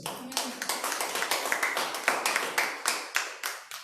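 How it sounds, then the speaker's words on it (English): A church congregation claps along during a Sunday worship service, a steady run of about fifteen crisp handclaps in a quick even beat, fairly close and continuous throughout. "Clap hands for Jesus."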